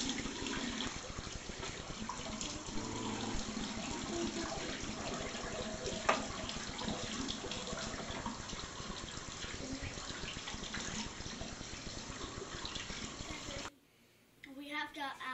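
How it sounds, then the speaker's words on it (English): Water runs from a kitchen tap during handwashing: a faint, steady stream with splashing that continues evenly, then cuts off abruptly near the end. "The first thing we do is wash our hands."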